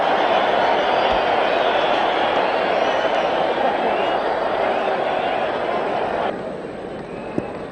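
Stadium crowd roaring at a one-day international cricket match in Ahmedabad, India versus West Indies, after a Rahul Dravid boundary; a dense, sustained wash of cheering and noise that eases slightly near the end.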